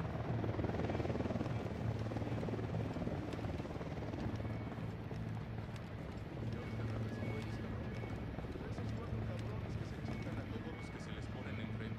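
Helicopter in the video game Ghost Recon Wildlands drones with a loud, steady rotor thrum and low engine rumble throughout, with voices talking over it.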